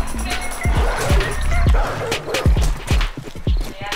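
Dogs bark in rapid, repeated bursts during a horde night in the video game 7 Days to Die, loud and close, with yips mixed among the barks.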